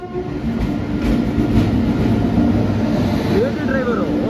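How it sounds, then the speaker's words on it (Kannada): A passenger train rolls into a station platform with a close, loud rumble and rhythmic wheel clatter, a brief squeal of brakes near the end and no voices heard. "ನಾವು ಹೊರಡುವಂಥ ಟ್ರೈನ್ ಬಂತು."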